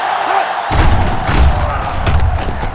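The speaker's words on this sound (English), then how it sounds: "this crowd is going absolutely insane" Roaring stadium crowd in an NCAA Football 06 game, Auburn at LSU, swelling loudly after a brief quiet start, with thumping bursts and cheering that stays dense and continuous throughout.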